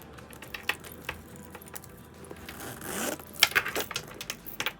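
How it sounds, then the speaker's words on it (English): A zipper on a Coach bag is pulled open and run along its track, rasping in short scratchy passes with a quick jangle of metal hardware near the end, close and moderately loud with no talking. "I really should check to make sure this zipper does work"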